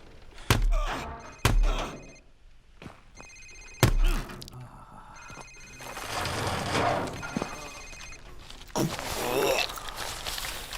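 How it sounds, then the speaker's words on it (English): A mobile phone rings in a Call of Duty: Modern Warfare cutscene, repeated electronic tones among heavy thuds, movement and voices in a tense interrogation scene. "Sir, it's his cell phone."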